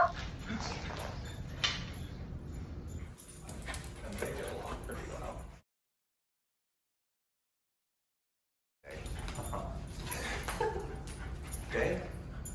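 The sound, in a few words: dogs barking and whimpering while playing with raccoon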